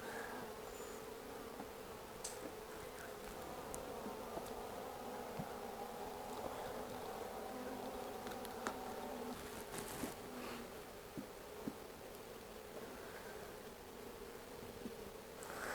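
Honey bees swarming over frames during a hive inspection make a dense, continuous buzzing drone, close and steady throughout, with faint rustles and a few brief clicks of handling.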